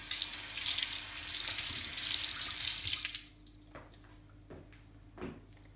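A tap runs loudly into a sink for about three seconds as hands are washed, then shuts off, leaving faint drips and small clinks in a quiet kitchen.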